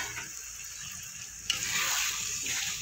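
Poppy seed paste and water poured into a frying spice mix in oil for a Bengali rui posto fish curry, giving a steady close sizzle that swells louder and brighter partway through as the liquid hits the pan.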